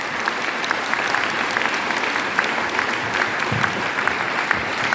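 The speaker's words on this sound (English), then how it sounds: "You have to applaud now." Audience applause closing a conference talk, a dense, steady wash of many hands clapping at even loudness for about five seconds, with no voices standing out.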